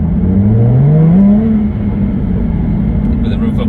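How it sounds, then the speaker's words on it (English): Jaguar F-Type V6 engine revving close up, a loud rising rev that climbs over about a second and then settles into a steady idle-like drone. "Because the F-Type makes such a nice noise."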